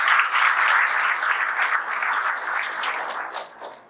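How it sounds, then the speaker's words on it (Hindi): Steady crowd applause at a toppers' felicitation event for a civil engineering coaching institute, dense and moderately loud, holding for a few seconds before thinning and fading at the end. "इसके लिए भी ताली बजाओ भाई"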